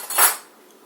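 A spoon dips into a pan of sauce for chicken Kreyole, giving one bright metallic clink that quickly fades into quiet.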